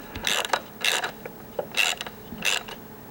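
Bolt on a 2015 Yamaha R1 Taylormade racing exhaust bracket tightened with a ratchet: four short bursts of clicking ratchet strokes with brief pauses between, close and clear, with no talking.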